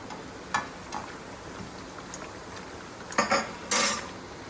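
Chicken being stirred with ginger garlic paste in a metal pan, faint scattered spoon clinks and scrapes building to a few louder clatters near the end, no talking.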